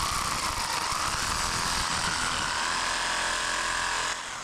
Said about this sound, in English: Cutting off the nails with the sawzall and removing those screws.